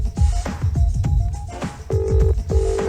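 A telephone rings on a BBC radio comedy show, repeated electronic ring pulses over dense rhythmic background noise with no talk.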